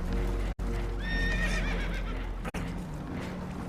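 Spooked horses neigh and whinny in a high, wavering burst aboard a damaged boat in the video game Red Dead Redemption 2, set against a constant loud rushing of water, with brief cuts in the sound.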